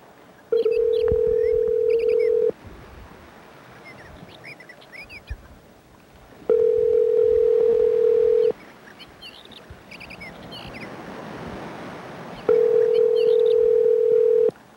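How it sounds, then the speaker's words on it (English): A phone call is placed for a radio bit: a steady telephone dial tone sounds in three long two-second stretches, with faint dialing tones and background noise in the gaps between them. "Here we go, calling Dan Dobler first off"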